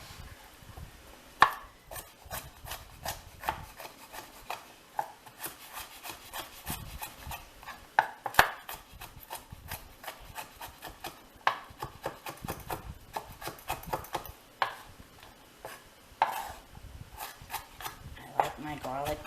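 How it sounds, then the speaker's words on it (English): Garlic minced with a knife on a cutting board, giving rapid, uneven chopping taps and scraping rubs that run steadily for a long stretch at close range, with a voice talking in places. "I like my garlic minced up too."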